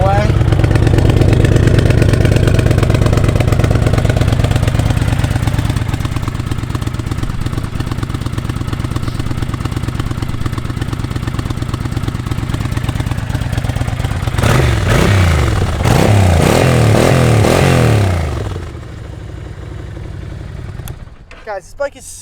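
A 2002 Kawasaki Vulcan Drifter motorcycle engine runs loud and steady close by, a deep rumble with a brief rise in revs near the end before it cuts off.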